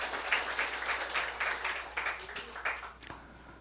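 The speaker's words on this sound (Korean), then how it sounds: "우리 하나님께 박수." Church congregation applauding in a Seoul worship service, a steady wash of many hands clapping at moderate distance for several seconds before it thins out and stops.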